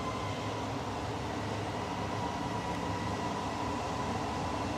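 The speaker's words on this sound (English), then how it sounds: "Oh, here comes a train." A train passing by outdoors, a steady broadband rumble and rush that stays loud and even throughout, with no voices.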